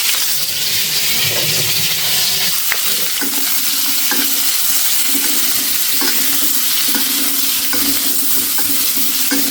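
Vegetables fry and get stirred in a pan on the stove in a home kitchen, a loud continuous sizzle with scraping stir strokes repeating throughout and no speech.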